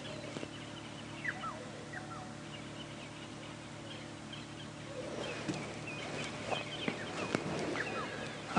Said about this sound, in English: Egyptian geese.